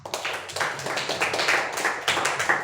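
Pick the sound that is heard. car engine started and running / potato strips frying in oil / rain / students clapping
students clapping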